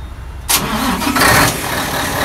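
A large vehicle's engine and exhaust run nearby, with a loud crank-like burst giving way to a rough, steady rumble that briefly swells and then settles into a throaty idle.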